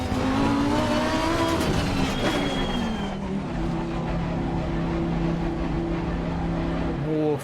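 Race car engines roar in Assetto Corsa at Misano, a Porsche running close behind the leader; a loud sustained engine drone shifts pitch, with a commentator talking over it.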